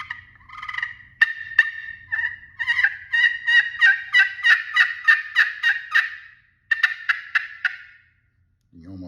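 Custom Hawaiian koa wood turkey call with a slate surface and rosewood inlay, played as a run of sharp, rhythmic yelps and clucks, loud and close, with a brief pause before a final burst.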